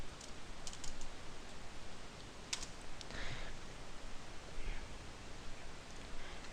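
Faint, sparse keystroke clicks on a computer keyboard, typing a message into a Caesar-shift encryption program in a quiet room with a low hiss underneath.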